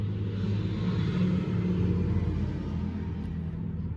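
Steady low rumble of passing road traffic drifts in through an open window, a continuous dull drone that stays fairly even throughout with no voices.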